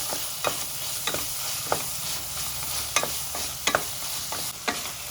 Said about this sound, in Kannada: ಸ್ವಲ್ಪ ಅರಿಶಿನ ಉಪ್ಪು ಅರಿಶಿನ ಕೂಡ ಚೆನ್ನಾಗಿ ಫ್ರೈ ಮಾಡ್ಕೊಳ್ಬೇಕು